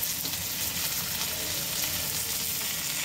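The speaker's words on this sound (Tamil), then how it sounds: "தக்காளி சிம்மில் வச்சுட்டு கொஞ்ச நேரம் வதக்கிட்டே இருப்போம்" Tomatoes sauté on low heat in a pan for a ginger, coriander and mint chutney, giving a steady, fairly soft sizzle that runs unbroken throughout with no voices.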